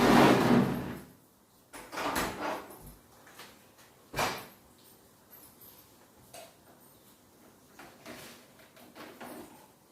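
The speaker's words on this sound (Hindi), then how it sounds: "इधर ये दरवाजा बंद कर लिया" A door in a village home is pushed closed, with a few sharp knocks and a rattling slide among scattered household clunks and quiet pauses.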